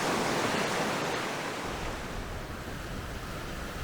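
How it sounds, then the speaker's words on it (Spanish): Broad steady rush of flowing water from the Oren River, loud and continuous with no voices, easing slightly after the first couple of seconds. "Comenzamos a recorrer este río"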